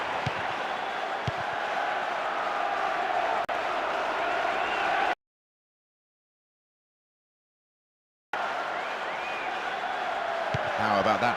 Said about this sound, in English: you can hear the relief from the crowd